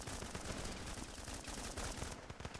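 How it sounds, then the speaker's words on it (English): Rapid automatic rifle fire in the war game Running with Rifles crackles in a dense, continuous burst of shots, moderately loud and heard alone with no talk. "Someone's shooting at me, so someone's a bad person here."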